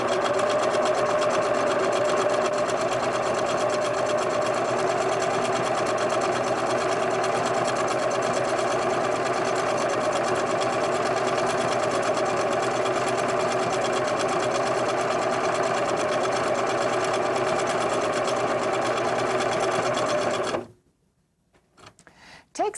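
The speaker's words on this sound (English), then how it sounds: "Set your machine for a feather stitch, lower your needle, and begin to sew." A sewing machine runs steadily on a feather stitch across a quilted placemat, a continuous loud mechanical whir for about twenty seconds before cutting off abruptly into near silence.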